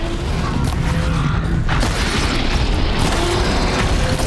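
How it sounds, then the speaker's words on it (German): A machine explodes in the Horizon Zero Dawn video game, a loud sustained booming blast with crackling, mechanical debris and rumble filling the scene, with faint talk underneath. "es ist explodiert."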